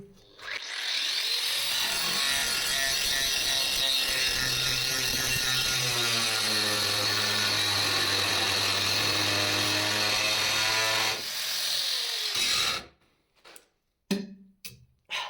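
A GTM AG125/1400VS angle grinder fitted with a disc spins up and runs at a loud, steady whine for around ten seconds, then winds down into silence, followed by a few sharp knocks.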